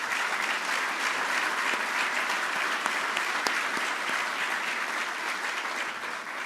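Steady, continuous applause from a large audience at a mayor's State of the City address in Yonkers, honouring the city council; a moderately distant, even roar of clapping held throughout.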